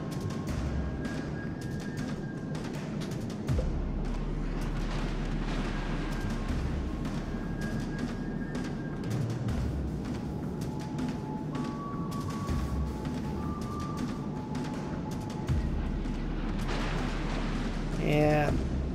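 Naval gunfire from a cruiser in World of Warships Legends thumps repeatedly in deep low booms spread over time, with whistling shell tones and battle noise, while a voice talks over the action throughout.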